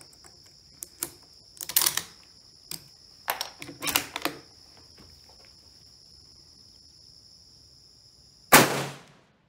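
A rifle loaded with Bulgarian 8mm surplus ammunition fires one loud, sharp shot that rings briefly. Before it come several scattered light metallic clicks of handling.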